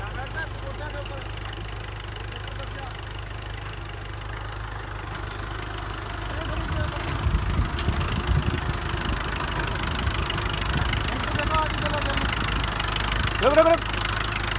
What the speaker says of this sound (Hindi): सबसे कम रेस पे चलता हुआ कुबोटा एकदम कम आरपीएम पे